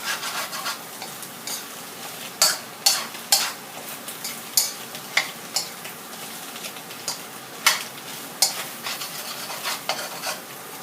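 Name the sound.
stir-frying vegetables in a pan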